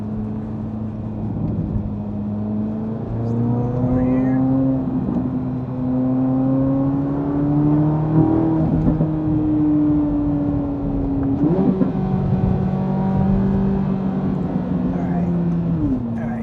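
A Chevrolet Corvette C8 Z06 engine revs and accelerates through several gear pulls, its strong, smooth tone climbing, dropping at each shift and climbing again, close and loud for the whole stretch.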